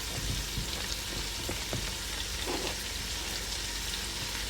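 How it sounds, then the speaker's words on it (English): Onions sauté in a hot pan for chicken and dumplings, a steady dense sizzle with occasional faint stirring taps. "you're probably going to have to saute these for 2 or 3 minutes, maybe a little longer"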